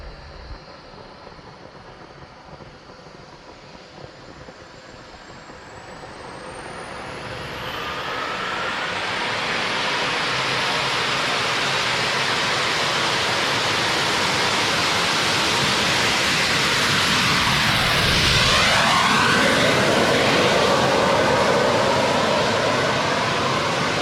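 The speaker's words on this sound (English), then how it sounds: "this time I only pushed the turbojet to half throttle" Turbojet engine mounted on a bicycle at half throttle, a roaring rushing blast with a high whine that swells from a quieter start into a loud sustained jet roar, shifting in tone as it passes close.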